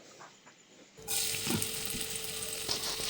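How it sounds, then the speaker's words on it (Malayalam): Oil heating in a pan on a stove, the first step of a Kerala-style crab roast, breaks into a steady, close sizzle after a quiet first second and carries on evenly with no talk. "ഒരു പാത്രം അടുപ്പത്തോട്ട് വെച്ച് അതിനകത്തോട്ട് കുറേ എണ്ണ കുറച്ച് എണ്ണ ഒഴിച്ച്"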